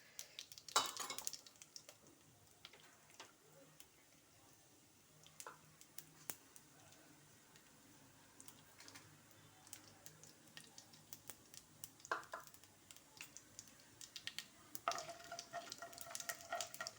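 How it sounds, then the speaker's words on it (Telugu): Tempering seeds crackle and pop in hot oil at the start of a bottle gourd curry: faint, sparse, irregular ticks scattered over a quiet background, with occasional utensil clinks. "ఇదిగో పోపు గింజలు వేసేస్తున్నాను."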